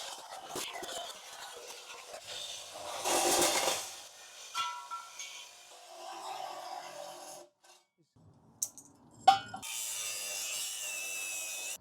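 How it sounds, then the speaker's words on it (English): A Milwaukee hacksaw cuts through steel transmission crossmember frame brackets on a 3rd gen 4Runner, giving intermittent scraping strokes in short bursts with pauses between them, and a harsher rasp near the end. "Time for some Milwaukee hacksaw action and some Milwaukee angle grinder action to get those off."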